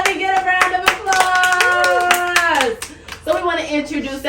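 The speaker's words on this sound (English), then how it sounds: "Let me get a round of applause" Applause at a family game show: scattered, sharp handclaps from a small group, heard under lively voices, including a child's, that cheer and talk over them throughout.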